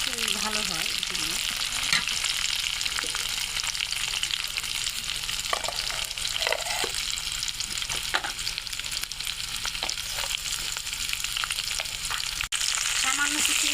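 Onions and green chilies frying in a pan for a vegetable bhaji, a constant close sizzle with scattered stirring taps and scrapes throughout.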